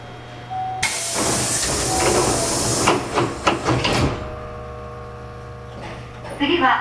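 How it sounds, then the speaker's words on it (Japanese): Doors of a Hankyu 8300 series train sliding shut at Ogimachi station on the Osaka subway Sakaisuji line, a loud hissing rush followed by several thumps and rattles as the panels close, with a recorded announcement over the platform. "扉が閉まります。"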